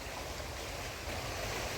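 Swollen, muddy Ganges at Haridwar running high after mountain rain, a steady broad rushing roar of fast water filling the whole clip at constant loudness, with no talk over it.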